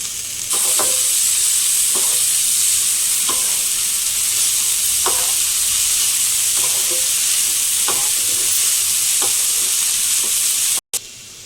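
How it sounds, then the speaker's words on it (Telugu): Chopped coriander leaves frying in hot oil for vada batter, a steady bright sizzle with periodic scraping stirs every second or so, close and loud, no voices. "వేసుకొని ఇది పచ్చి వాసన పోయేంత వరకు ఫ్రై చేసుకుందాం."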